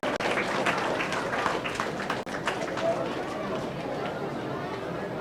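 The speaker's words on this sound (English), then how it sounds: "Give a big round of applause, I request please." Audience applause at a graduation award ceremony in 2018, dense and steady clapping filling the hall throughout with crowd chatter mixed in, a brief dip midway.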